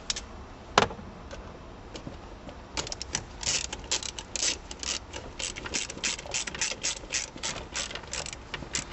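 Rapid ratchet wrench clicks while bolts are tightened on a vehicle, with steady bursts of close metallic ratcheting after one sharp early click, no talking.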